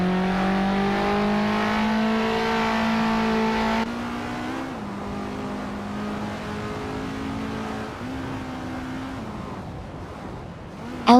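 A 1975 Skoda 130R race car drives steadily at racing pace, its engine holding a loud, even harmonic drone with brief shifts in pitch as it changes gear, continuous and close throughout.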